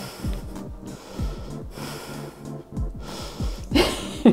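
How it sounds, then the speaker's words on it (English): Hard, rhythmic exhalations and snorting breaths from someone working through an advanced reformer Pilates workout, repeating in a steady pumping cycle with effort. The breathing grows louder and more strained toward the end, with no talk over it. "I'm sure you can hear my breathing getting harder and harder."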